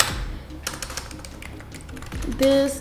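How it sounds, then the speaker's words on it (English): Quick clicky taps on a computer keyboard, a short burst of typing that fades into a brief electronic tone at the end. "I'm gonna type this"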